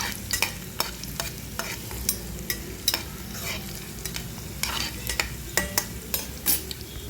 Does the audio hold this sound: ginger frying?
yes